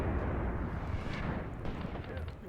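Mortars firing in Graviteam Tactics, a dense run of deep booms and rumbling blasts rolling on without pause, loud and close, overlapping one another throughout.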